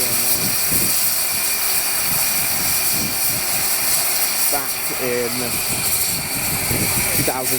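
A Romney Hythe and Dymchurch Railway locomotive, Doctor Syn, runs with a steady mechanical roar and hiss, with clanking and ratcheting bursts, while someone speaks briefly over it.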